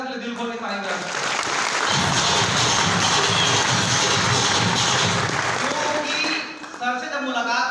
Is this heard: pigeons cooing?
no